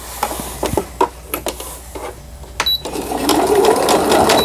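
A Riccar domestic sewing machine runs a zigzag stitch, starting with a few short separate bursts and then settling into a steady, close, continuous whirring rattle.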